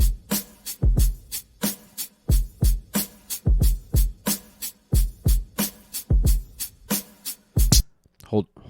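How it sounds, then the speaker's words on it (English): A punchy drum loop with kick and snare hits repeating in a steady groove, loud and close, stopping abruptly near the end. "It's a whole drum loop."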